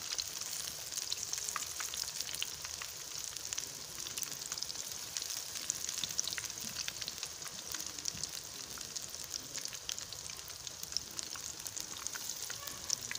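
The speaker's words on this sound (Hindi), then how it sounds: "हाई टू मीडियम फ्लेम पे हम इनको फ्राई करेंगे।" Cauliflower pakoras fry in hot oil over a high to medium flame, giving a steady, close sizzling hiss with crackly bubbling throughout and no talking.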